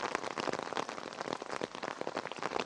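Monsoon rain falling steadily on the ground outdoors, a dense, even hiss of drops, soft and continuous with no talking.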